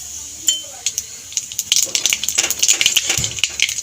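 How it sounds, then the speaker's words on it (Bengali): Nigella (black cumin) seeds hit hot oil as a tempering for a Bengali flat bean and potato curry, bursting into crisp crackling pops that thicken into a busy, close sizzle. "আলু ভাজা গরম তেলের মধ্যে দিয়ে দেবো ফোড়নে কালো জিরে"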